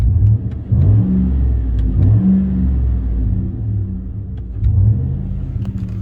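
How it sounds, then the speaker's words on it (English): A GM Sierra pickup truck engine rumbles close by, rising and falling in a few short revs, with faint clicks over the low drone. "You can actually hear the motor."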